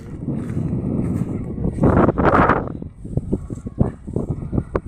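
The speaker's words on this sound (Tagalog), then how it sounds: "lakas ng hangin guys oh" Strong wind buffets the microphone in a continuous low roar, with gusts swelling and some rustling noise mixed in.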